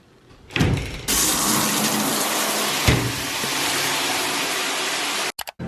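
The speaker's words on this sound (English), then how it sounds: "so I'm gonna shower." A shower starts with a sudden burst and then sprays as a loud, steady hiss up close, with a brief knock partway through before it cuts off at the end.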